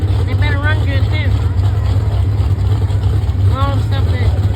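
The modified 4x4 Chevrolet pulling truck, street class at the 2025 Madison, Virginia tractor pull, idles with a steady, loud, deep engine drone while people talk nearby.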